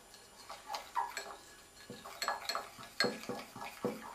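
A utensil stirring a magnetic iron slime mixture in a container, giving a series of light clinks and scrapes in irregular bursts, close and fairly quiet, with no talking.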